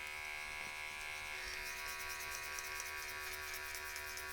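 An electric hair clipper with a half guard buzzes steadily and close up while cutting hair during a buzz cut, a constant faint hum with no talking.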